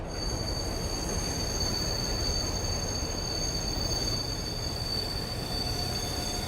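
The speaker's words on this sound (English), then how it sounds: "Krampus walked to one side of the train's car and hit the emergency brake." Steel train wheels squeal steadily on the rails under emergency braking, a continuous loud screech with high whining tones over a low rumble, lasting several seconds with no voices.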